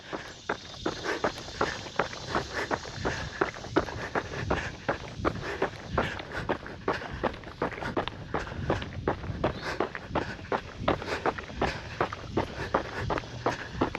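Rapid, steady running footsteps in Puma Magnify Nitro 3 shoes on a long road run, a quick even rhythm of soft thuds over constant wind and traffic-like noise.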